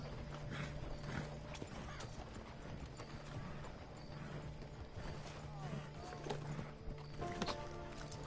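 Rhythmic clip-clop of horse hooves in the video game Red Dead Redemption 2 Online over a busy layer of mechanical clicking and rattling, faint and steady, with occasional thumps and no clear talk.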